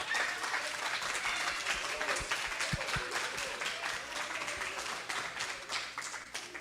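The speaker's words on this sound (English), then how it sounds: "Let's give all of them a big applause for participating." An audience applauds at a third grade spelling bee with a full, continuous round of clapping, a few heavier thumps partway through, and the sound slowly easing toward the end.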